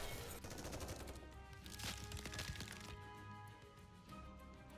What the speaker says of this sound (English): Bullets flying from all directions slam into the ice barrier.